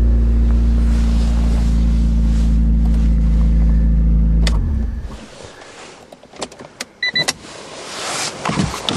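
A Honda car engine idling steadily after a snowy winter start, a loud close low hum that cuts off midway, then scattered knocks and rustles follow.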